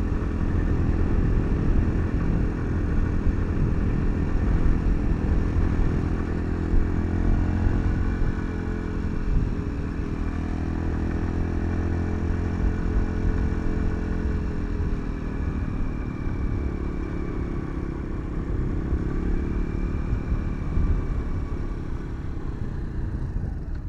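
Motorcycle engine running steadily throughout a ride, a loud continuous rumble with shifting pitch as the bike moves, alone without talk.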